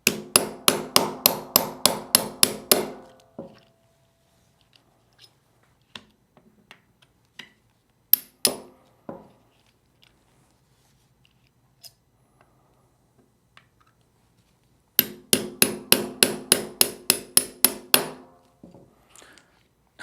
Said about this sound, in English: I'll punch out all 3 pins with a 3/32 inch pin punch.